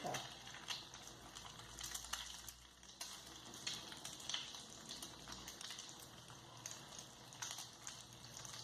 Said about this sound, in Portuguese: nós levamos as rabanadas para fritar